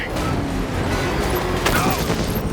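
Gunfire and rocket fire in Batman: Arkham Knight, a continuous dense rumble of game combat with rapid shots and booms merging into a steady loud wash, with faint voices mixed in.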